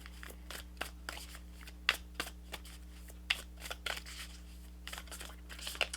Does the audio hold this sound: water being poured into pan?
no